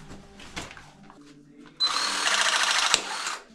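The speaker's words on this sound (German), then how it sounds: "Also kann ich es jetzt so verpressen." A press tool crimps an aluminium composite pipe fitting during shower valve installation, a loud steady motorised whir of nearly two seconds that ends abruptly, preceded by quiet handling clicks.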